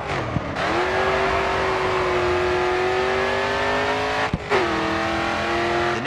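A racing car in the video game Grid 2 drifts through corners, its engine droning loud and steady with rising and falling pitch as the throttle is worked, a brief lift-off cutting the sound near the end before it revs back up.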